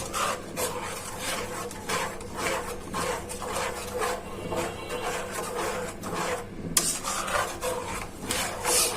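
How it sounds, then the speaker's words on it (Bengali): Chili sauce made from green chilies and vinegar is stirred continuously in a pan as it thickens, giving a steady, rhythmic scraping and rasping of the utensil against the cooking pan, close and fairly even throughout. "অনবরত নাড়াচাড়া রাখতে হবে, না হলে লেগে যাবে।"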